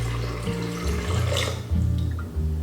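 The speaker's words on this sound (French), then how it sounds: "Et finalement, on va rajouter une tasse d'eau." A cup of water poured into a maple syrup and pumpkin spice mixture, a close, steady liquid pour and splash that runs continuously and loudly with no talk.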